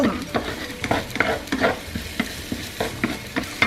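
Stir-frying in a frying pan: a loud, close sizzle broken by quick, repeated scrapes and clatters of a utensil against the pan in an uneven rhythm, with no one talking.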